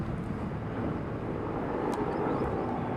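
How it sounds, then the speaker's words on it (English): Helicopter in war footage, a steady broadband engine and rotor roar that holds at constant loudness throughout, with no talking. "We've got footage of a helicopter."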